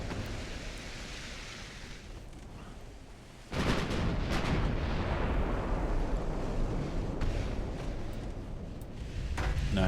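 Secondary guns on a warship in a naval combat video game fire at a light cruiser, a dense rumbling barrage that thickens into loud, continuous booming and crackling roughly a third of the way in and keeps up to the end.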